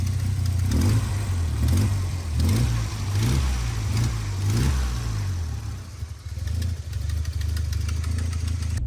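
A car pulling up, its engine rising and falling through a few throttle swells before settling into a steady idle, close and fairly loud with no voices.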